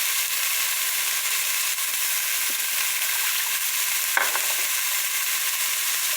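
Meat strips with bones turning and frying in a pan while cooking lomi, giving a steady, close sizzle and hiss with a brief stir or scrape near the middle.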